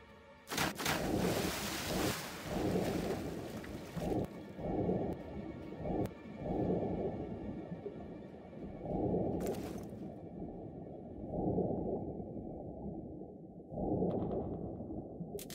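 Muffled underwater ambience as a character dives in the Far Cry video game: dense low rumbling and swirling wash, loud and continuous, with a few brighter bursts, no voices.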